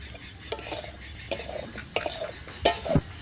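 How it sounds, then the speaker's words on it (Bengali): Curry stirred in a cooking pan with a utensil, giving a series of close scraping and clinking strokes in an irregular rhythm, with a faint sizzle underneath and no talking. "নাও তরকারিটা নাড়ো।"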